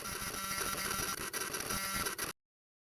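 A printer in the video game Stay Cracked chatters through a short dense burst of buzzing, whirring mechanical noise, steady and close for about two seconds before cutting off abruptly into silence.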